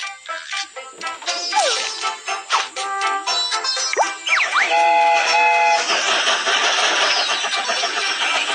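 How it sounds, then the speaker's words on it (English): A toy-like train starts up with rising whistles, clanks and a swelling mechanical rush that settles into a loud steady rumble. "The train is about to start."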